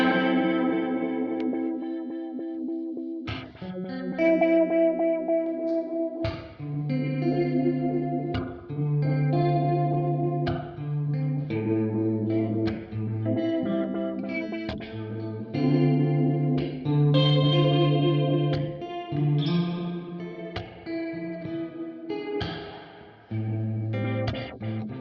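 Instrument notes run through a Meris Mercury X modular reverb pedal ring out in sustained, layered tones with washy, shimmering tails that overlap from one phrase to the next across a long stretch of playing.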